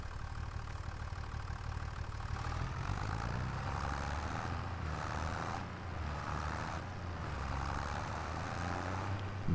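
A John Deere tractor engine runs steadily at a low, even rumble in Farming Simulator 25, with slight swells in its drone. No voices are heard over it.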